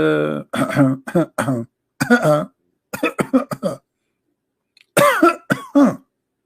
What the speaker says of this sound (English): Should I cough more so people understand?